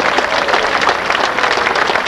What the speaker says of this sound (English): How about a round of applause for the Chief Engineer, Pete Clayton